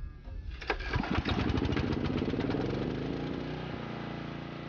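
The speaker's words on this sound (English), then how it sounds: "Start the generator." A small portable generator powering a Grundfos solar water pump system cranks over and catches, then settles into a steady, loud engine drone that carries on alone to the end.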